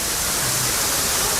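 Water flows over slippery, moss-covered rocks beside a cave in a dense forest in Chitrakoot, making a loud, steady rushing hiss close by.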